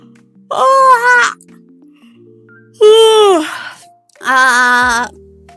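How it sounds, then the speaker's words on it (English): A person yawns three times in a row, each a long, loud, drawn-out vocal groan that rises and falls, close up with brief quiet gaps between. "I'm yawning too much."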